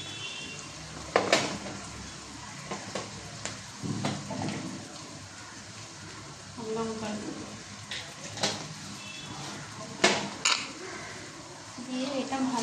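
Ginger-garlic paste with green chilies and salt is stir-fried in a pan, producing close scraping and clanking of a utensil against the pan over a low frying hiss, with a voice talking at times.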